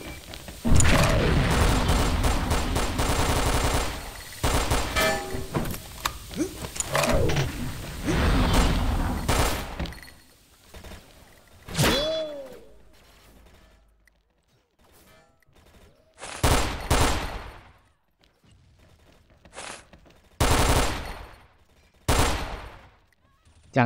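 Bursts of AUG rifle fire from the shooter game XSHOT rattle loud and close, with dense rapid volleys early on and then shorter separated bursts, while players talk over the action.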